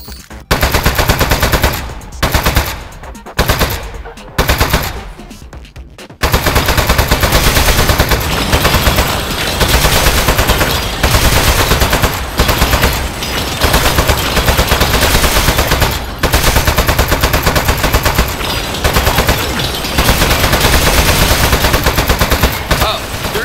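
An automated turret in Aperture Desk Job fires rapid, continuous bursts of bullets, loud and close, with brief pauses in the opening seconds before a long unbroken stream of gunfire.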